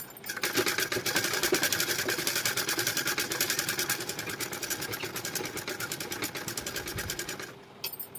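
Sewing machine running steadily while stitching a blouse neckline, a fast even mechanical chatter held close and loud for several seconds, slowing briefly near the end.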